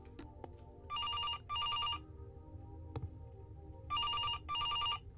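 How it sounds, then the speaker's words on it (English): A telephone rings with a double-burst bell pattern, two pairs of rings separated by a pause, fairly loud over a quiet room with no talking. "Answer the phone."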